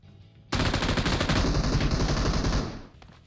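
A sudden burst of rapid automatic gunfire in PUBG Mobile, loud and dense, lasting about two seconds before cutting off into quiet.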